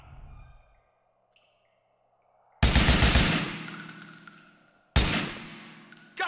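Gunfire in Grand Theft Auto IV, heard as two loud, sharp gun blasts about two seconds apart, each ringing out and decaying, following a nearly silent stretch after some faint game sound.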